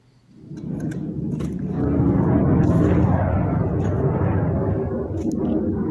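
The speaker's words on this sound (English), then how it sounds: "Airplanes flying over." A low, broad roar swells in within a second and holds loud and steady, like aircraft passing overhead, with faint clicks and rustles nearby.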